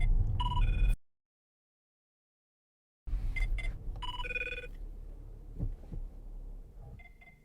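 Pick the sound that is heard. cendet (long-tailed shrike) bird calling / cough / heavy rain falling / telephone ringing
telephone ringing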